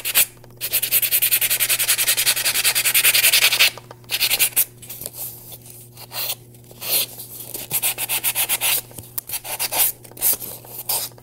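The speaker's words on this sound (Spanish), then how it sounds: "si los huequitos son muy, muy grandes, pasen en lija" Sandpaper rubbing over a surface to smooth large holes before craft foam is applied, a loud steady scraping for about four seconds, then shorter rough strokes in bursts with pauses, heard alone.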